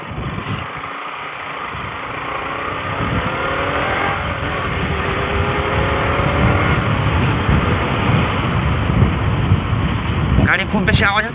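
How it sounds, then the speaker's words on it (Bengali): A car engine drones steadily while driving along a village road, a broad continuous rumble with road and wind noise that swells slightly, and people talk over it throughout. "গাড়ি খুব বেশি আওয়াজ হচ্ছে নাকি?"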